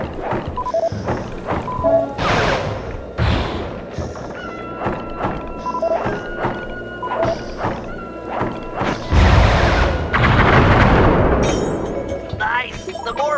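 Fireworks attack in the PS2 game Sly 3: Honor Among Thieves, a busy run of crashing bursts, thumps and crackling blasts with game music and effects, loudest near the end, with characters speaking in between.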